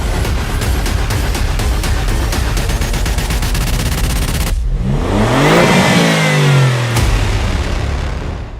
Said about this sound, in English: they released a little clip showing you exactly what it sounds like